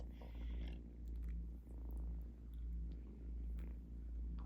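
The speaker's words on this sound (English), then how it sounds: "We are cat sitting, 2 cats right now, 2 kittens." A kitten purrs close up on an Appalachian homestead. The soft rumble is low and steady and rises and falls in regular breathing cycles, with no voices over it.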